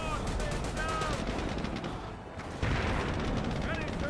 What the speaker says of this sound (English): Incendiary mortar on the Churchill.